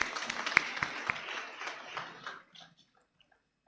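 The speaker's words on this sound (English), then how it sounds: "Big round of applause." Audience applause at a Rotary International district conference, a brief scattering of claps that thins out and stops after about two seconds, fairly faint.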